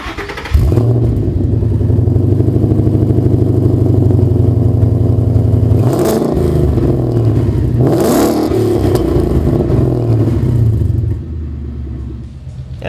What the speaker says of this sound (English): Let's fire it up and see how it sounds with our new X-Pipe.